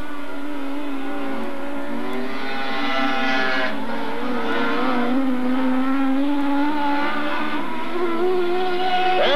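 Dirt track race cars roar at Magic City Speedway in Billings, a loud continuous engine drone with rising and falling revs as the field passes, no voices over it.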